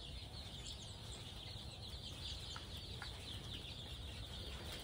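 Local chicken chicks on a farm, faint soft clucking and peeping over a steady background hiss, distant and continuous without any talk.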